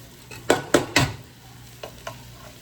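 Rice being stirred in a pot with a faint sizzle beneath, three close scraping strokes followed after a pause by two lighter ones.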